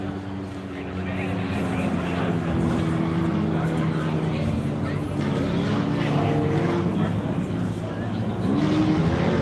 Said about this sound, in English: And I reckon that's the sound of Luke Ersick in amongst the many corners out here in front of the tavern